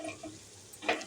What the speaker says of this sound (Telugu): వేసుకొని మళ్ళీ సిమ్లో పెట్టి కాసేపు మళ్ళీ వేగనియ్యాలి అవన్నీ తాలింపులు కూడా.